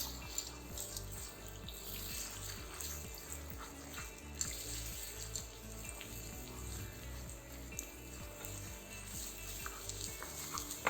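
Eggs sizzling in oil in a pan, a steady, soft frying hiss under faint background music, with no voices.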